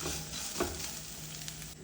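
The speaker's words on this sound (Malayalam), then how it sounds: "തേങ്ങ ഇട്ട് കൊടുത്തതിന് ശേഷം ഒന്ന് വറുത്തെടുക്കാം" Grated coconut roasting in a pan for a cabbage side dish, stirred with a steady close sizzle and soft scraping strokes, with no voices.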